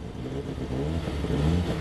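A 1938 six-cylinder sports car engine run on its hand throttle at a vintage alpine rally drones steadily nearby, rising slightly in revs toward the end, with no talk over it.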